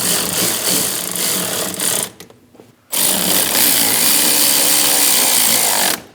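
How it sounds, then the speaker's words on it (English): A tool tightens the nuts on the brake master cylinder of a 2001-2006 Chevrolet Silverado 2500 HD. A loud, steady mechanical whirring runs close up, breaks off for under a second, then resumes until the end. "Snug the nuts down on both sides."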